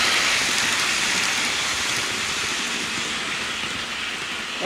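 A steady rushing, rattling rumble of a model train running on its track, continuous and close, with no break for the whole stretch.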